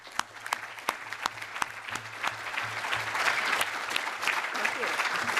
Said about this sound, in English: A big round of applause for the panelists.